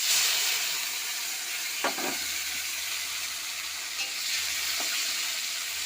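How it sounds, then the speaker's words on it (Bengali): Onion and tomato hitting very hot mustard oil in a karahi, a loud steady hiss and sizzle up close with a couple of stirring scrapes, no voices. "তেলটা প্রচুর গরম হয়ে গেছে আমি পেঁয়াজ আর টমেটোটা দিয়ে দিলাম"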